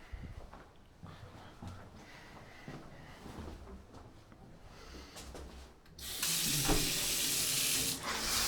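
Hotel resort shower starts spraying hard after a stretch of quieter handling noises, a loud steady hiss of water flying across the bathroom floor for the final seconds.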